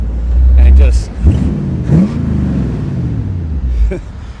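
A 1952 Allard J2X with a 340 hp Hemi V8 revs loudly at close range, a deep throaty blip climbing and settling into a rumbling idle, with people talking over it.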